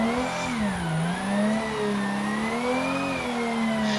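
A Toyota Supra engine held in third gear as revs fall off with little throttle, a steady close drone sliding gently down and up in pitch throughout, with a faint tire noise near the end.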